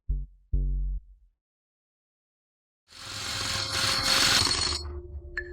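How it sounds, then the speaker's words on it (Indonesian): An electric drill bores into special-grade glass, starting suddenly as a loud, harsh, grinding whine after a couple of short low tones and a moment of silence. "Berhenti mengebor, suaranya terlalu keras."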